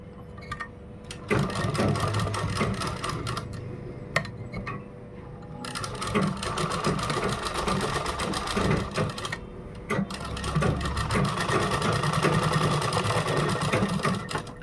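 A sewing machine stitches a kurta made from a dupatta, running in long continuous rattling bursts with brief pauses between seams, loud and close.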